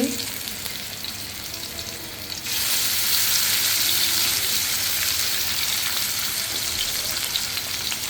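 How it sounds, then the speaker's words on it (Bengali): Large koi fish go into hot oil and the sizzle jumps sharply partway through, then holds as a loud, steady frying hiss to the end. "মাছগুলো আমি এখন ভাজতে দিয়ে দিচ্ছি"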